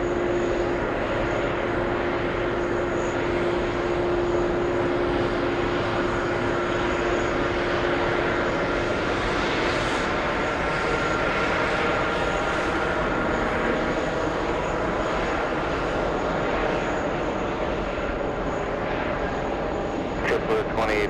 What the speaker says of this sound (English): We have ITA, A330neo flying to Rome.